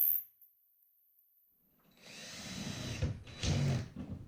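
A power drill driving screws through drywall into framing, first near silence, then a close whirring burst that dips briefly and surges again before trailing off.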